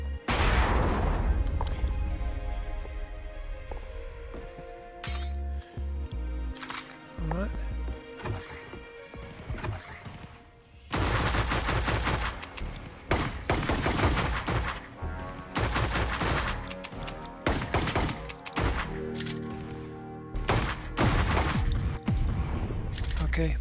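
Gunfire in The Academy, a sci-fi VR shooter game on Oculus Quest, with repeated bursts of shots and crashing impacts over game music, heaviest in the second half, while a player talks.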